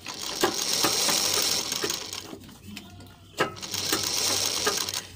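A sewing machine stitches along the edge of a half collar, running in steady rapid bursts with a short pause midway before resuming.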